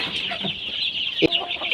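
Twenty-five-day-old native chicks cluck and cheep in a pen, a brief, busy chorus of overlapping high calls close by with a sharper squawk near the end.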